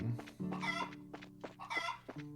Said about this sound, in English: We scared that chicken so bad.